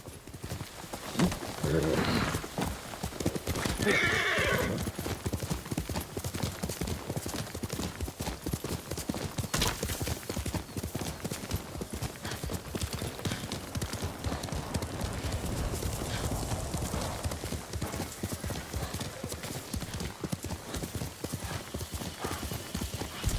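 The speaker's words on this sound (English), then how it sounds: "Horse!" Horse hooves clip-clopping in a steady galloping rhythm throughout, with a whinny early on, from the PS5 video game Ghost of Tsushima; game music plays underneath.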